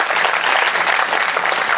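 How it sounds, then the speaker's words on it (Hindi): A crowd at a Hindi poetry gathering in a township claps together in a continuous, fairly loud burst of applause with no pauses. "एक बार आपकी सम्मिलित तालियां उठें।"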